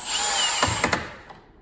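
A power drill whirs steadily, then strains in a few short bursts as it drives a screw into pre-drilled wood before spinning down and fading out.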